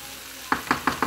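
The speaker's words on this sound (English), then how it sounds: "Give it a good stir fry." Rice noodles with vegetables stir-fried in a home kitchen pan: a low sizzle runs alone, then four evenly spaced scraping stirs of the utensil against the pan, close and fairly soft.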